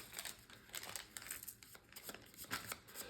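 A deck of playing cards for a tabletop board game is shuffled up close, with quick papery riffles and crisp snaps coming in several bursts, alone and without speech.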